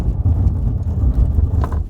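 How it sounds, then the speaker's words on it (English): A 2024 Hyundai Ioniq 5 N braking hard from 100 km/h, heard as a loud, steady low-frequency rumble of road and wind noise that holds through the stop with no voices. "time to do a brake from 100, see how well this tire and brake package pulls up for us"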